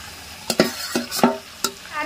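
Boiled red lentils with potato and papaya being stirred and fried in a pan, with several distinct scraping stirs over a low steady sizzle, close and moderately loud.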